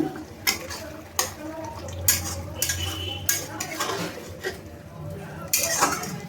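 A spoon stirring egg dhokar dalna curry with chopped coriander in a metal pan, scraping and clinking against the pan in irregular strokes, with a soft simmering sizzle underneath.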